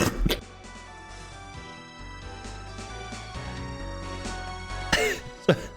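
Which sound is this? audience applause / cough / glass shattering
cough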